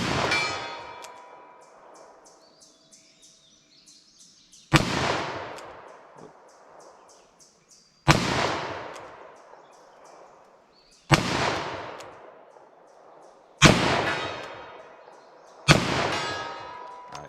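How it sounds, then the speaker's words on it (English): Fiocchi .357 Magnum rounds fired single action from a revolver outdoors, five sharp, loud reports spaced a few seconds apart, each ringing out and decaying into a long echo. "357 mag. Let me go single action and see how these things shoot for me."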